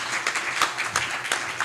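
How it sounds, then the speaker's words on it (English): Audience applause at a UCLA book launch, a dense steady patter of many hands clapping close by with small swells and no talk over it. "Big round of applause back there."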